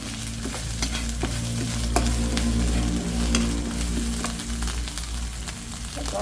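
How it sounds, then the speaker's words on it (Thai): Spicy eel with pounded turmeric being stir-fried outdoors, a loud continuous sizzle with scraping spatula strokes against the pan and a low background hum, no talking. "เราก็คนให้หอมๆก่อนนะคะ วันนี้ออกมามาผัดข้างนอก"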